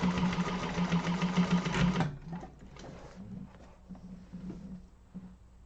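A sewing machine runs a fast, steady stitching burst close by for about two seconds, sewing a seam on an organizer bag, then stops, leaving faint handling clatter and soft shuffling.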